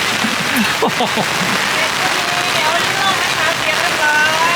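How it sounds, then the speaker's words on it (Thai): Steady, loud downpour drums across an outdoor evening market stall area at Tha Rua during a storm, a constant hiss of rain with brief voices and a few sharp calls breaking through early on. "ฝนตกเลยนะ"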